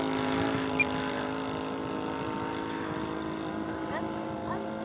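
A P-47 Thunderbolt fighter's piston engine drones steadily in flight, a continuous harmonic roar holding level throughout, with faint voices nearby.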